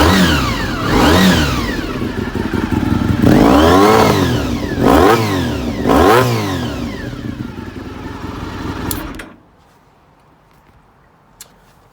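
A motorcycle engine fires up instantly on a nine-year-old Speedcell lightweight battery, then revs loudly in several rising and falling surges before cutting off abruptly, leaving near silence.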